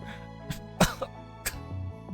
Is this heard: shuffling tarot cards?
no